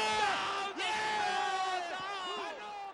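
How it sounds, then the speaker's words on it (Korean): A large arena crowd of about ten thousand at an Olympic-era taekwondo match jeers loudly and continuously, a dense roar of booing and yelling with rising shouts, steady throughout with a brief dip early on. "야유를 보내기 시작해요."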